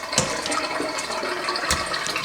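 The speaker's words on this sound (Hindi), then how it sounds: "पानी फेंक दें," Water being tipped out of a bowl after rinsing fish pieces during fish curry preparation, a steady splashing gush with a couple of sharper sloshes, close and fairly loud, no talking.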